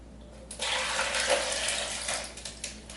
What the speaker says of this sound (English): Throw in some water.